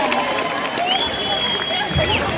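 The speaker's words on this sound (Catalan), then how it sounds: "un aplaudiment per la gent que no és normal" Crowd applause and cheering at the Vinaròs carnival during the arrival of the Carnestoltes, a dense, continuous roar of clapping and voices with a whistle-like tone riding over it, close and loud.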